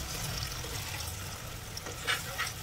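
Water poured from about half a cup into a pan of chicken being sautéed, a soft close splash and trickle over steady low sizzling, with a couple of brief brighter splashes near the end.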